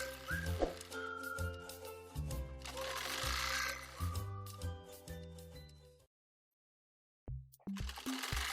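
Sewing machine stitching round the lining of a handmade beret, bursts of rapid motor whirring and needle clatter that start and stop, a short silent gap, then another run, close and clear.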